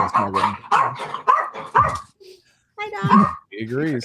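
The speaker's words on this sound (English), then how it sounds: "Sorry, that was my dog." A pet dog barks in a home during a podcast recording, a few short close barks mixed in with people talking over it.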